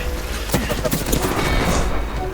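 Rapid, close gunshots from a firefight in the video game Apex Legends, popping in a quick irregular string, with a voice talking over the shots.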